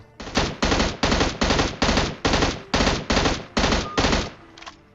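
Automatic gunfire in the video game PUBG: about ten loud, close bursts of rapid fire in an even rhythm, each roughly a third of a second long, with short gaps between them.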